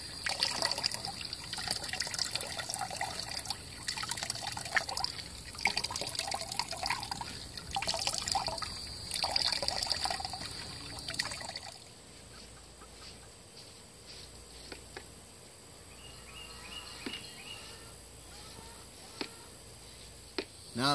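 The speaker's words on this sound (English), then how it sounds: "We're going to squeeze this down, kind of press the juice out of it a little bit." Watermelon juice trickles and drips steadily as pressed pulp is squeezed down, a wet, close liquid sound that runs loud for about twelve seconds before thinning to fainter dribbles and scattered drops.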